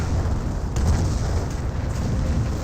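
Artillery barrage from a Goliath in Company of Heroes, a dense continuous rumble of low booms and blasts rolling steadily throughout with no distinct single hits.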